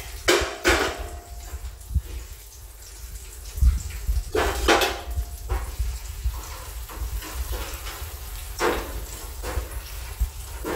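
Pots and pans clank and scrape in a kitchen while beef stock is moved into a big pot, with several sharp metallic knocks spread among softer handling noise, close by and fairly loud.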